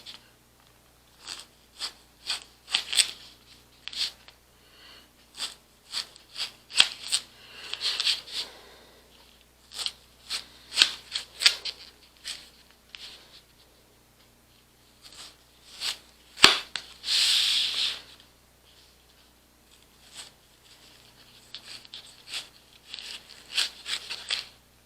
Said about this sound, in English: Now, I'm going to cut it in about 1/4 inch slices.